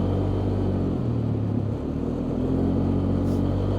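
A Polaris Sportsman 400 ATV, running poorly and failing to drive after mudding, idles in a loud, steady rumble close by, its pitch shifting only slightly as the throttle is eased up and down.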